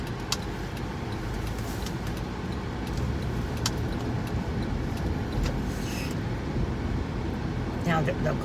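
A car comes up fast from behind on a road, its engine and tyre noise forming a steady, close broadband rumble inside the vehicle, with faint rattles over the top.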